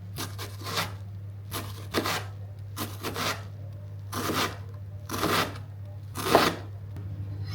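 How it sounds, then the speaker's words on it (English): A knife chopping an onion on a board in rapid bursts of dry, crisp cuts, grouped in about six separate runs with short pauses between, close and clear over a steady low hum. "Chop the onion."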